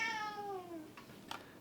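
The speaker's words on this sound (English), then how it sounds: "My cat is meowing in the background." A pet cat named Melon gives a single faint meow with a falling, drawn-out pitch, heard indoors in a Japanese apartment, followed by a couple of soft taps.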